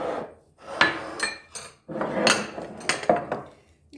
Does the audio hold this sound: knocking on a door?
no